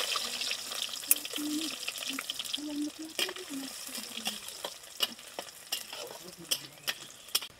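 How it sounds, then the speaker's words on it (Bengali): Crushed garlic frying in mustard oil in a kadai for jute leaf greens, a soft sizzle under sharp utensil clinks and scrapes, with a faint voice in the background. "পাট শাক রান্না করার জন্য এই তেলে দিয়ে দিচ্ছি থেতো করা রসুন।"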